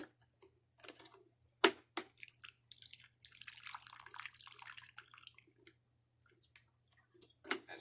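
Water from an opened aquarium canister filter drips and trickles in short irregular bursts with one sharp splash, set in a quiet room.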